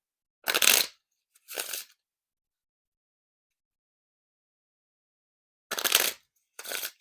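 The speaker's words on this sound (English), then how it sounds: "And now time for the riffle shuffle or bridge shuffle." A deck of vintage-stock Jerry's Nugget playing cards is riffle shuffled, with two quick crisp riffle bursts close up, then silence, then two more riffles.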